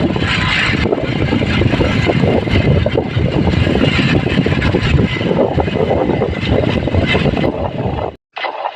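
A motorbike ridden on a cold morning, its engine choked and stiff from the chill, drones loudly and steadily close by with rough buffeting, then cuts out abruptly near the end.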